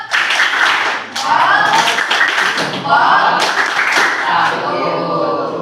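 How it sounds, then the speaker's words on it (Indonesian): A group does a patterned 'tepuk salut' clapping routine, with bursts of claps mixed with loud chanting voices, close and energetic. "Tepuk salut buat kita diri kita sendiri yuk"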